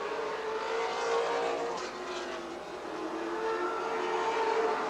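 Stock cars race at Golden Sands Speedway in Wisconsin Rapids, Wisconsin, their engines roaring at a distance with rising and falling pitch as the pack circles.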